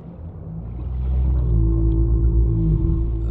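A large creature in the Subnautica video game lets out a deep, sustained underwater groan that swells after the first second and holds steady, with a low droning rumble beneath it.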